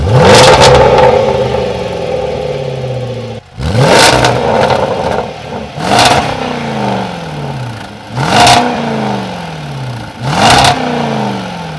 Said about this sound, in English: now let's do a loud start so we can hear the exhaust.